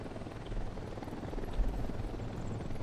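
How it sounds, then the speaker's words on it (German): Helicopter hovering overhead in Ghost Recon Wildlands, a low, continuous rotor rumble with a steady throb, fairly close and unaccompanied by talk. "Ein Helikopter befindet sich über unserer Position."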